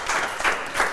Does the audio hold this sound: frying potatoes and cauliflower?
no